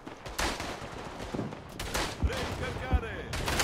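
Bursts of machine gun fire and scattered gunshots in the World War I shooter Tannenberg, rattling at mid distance with sharper nearby cracks, under brief talk.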